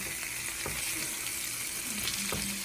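Oxtails and onions sizzle and crackle steadily while searing in a hot pan, a close, continuous fry with a few soft clicks of pieces being turned.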